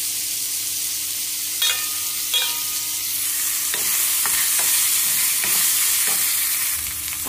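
Chopped onion fries in a pan for a radish sambar, giving a steady, close hiss of sizzling oil. A few sharp scrapes and clicks from stirring cut through it, and the sizzle swells louder toward the end. No voices.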